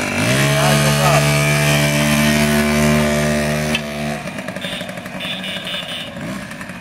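A small 1984 Garelli scooter engine, freshly rebuilt, idles loudly and steadily nearby, then the pitch drops and it chugs unevenly with faint clatter.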